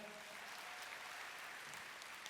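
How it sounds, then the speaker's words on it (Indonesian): Steady applause from a church congregation at an Ascension service, continuous clapping at a moderate distance without pauses. "kita berikan tepuk tangan buat Tuhan"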